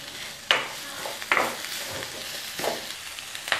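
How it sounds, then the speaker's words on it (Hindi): Oil sizzles steadily as onions, ginger and garlic fry in a pan, with several sharp scraping stirs of a spoon breaking through the hiss at irregular intervals. "अब इसी तेल में हम प्याज के पीसेस डालेंगे, अदरक और लहसुन डालेंगे"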